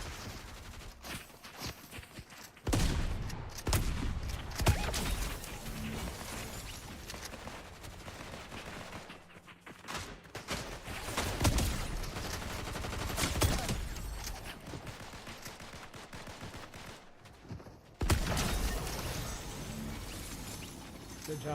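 Bursts of video-game gunfire in a multiplayer shooter match, volleys of shots arriving in loud clusters with quieter gaps between, fairly close and dense, with no talking over them.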